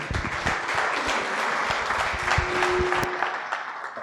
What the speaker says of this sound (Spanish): Vamos a recibir con un fuerte aplauso a nuestro pastor.